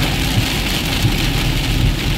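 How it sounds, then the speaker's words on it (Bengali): Heavy rain pours down in Kolkata during a thunderstorm, a loud, dense, continuous hiss of drops striking surfaces close by with no pauses. "এরকম ঝমঝম করে বৃষ্টি"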